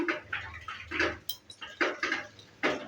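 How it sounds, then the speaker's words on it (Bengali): A lid set on a cooking pot while frying lentil and gram-flour pakoras, giving short metallic clinks and clatters at close range among other kitchen utensil sounds, with no talking. "এবার ঢাকনাটা দিয়ে বন্ধ করে দিচ্ছি।"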